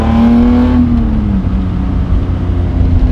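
A BMW E30 with a swapped S52 engine accelerates hard with a loud, close engine roar, its pitch climbing briefly before settling into a dense, steady drone.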